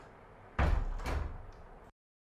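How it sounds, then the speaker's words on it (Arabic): A door swings shut in a home with a firm thud and a short rattle of the frame, loud and close, followed by a brief settling knock and then silence. "اخذ الباب وياك."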